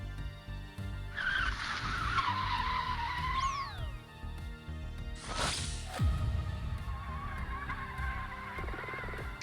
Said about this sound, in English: a high-pitched mechanical sound. You must have a turbo on that thing.